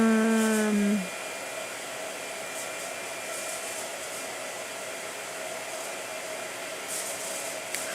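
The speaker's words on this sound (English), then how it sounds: "Blow dryer." A hair dryer blows steadily and loudly on a painting in progress, a constant whooshing roar after a brief tonal start.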